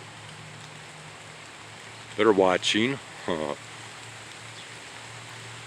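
Steady rain falls outdoors on a late afternoon, a soft continuous hiss that runs through the whole stretch, with a few brief words spoken over it partway through.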